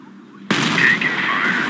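An 88mm Flak 36 gun firing at an M26 Pershing tank in Company of Heroes: a single sharp, loud blast that starts abruptly, then a sustained rumbling tail.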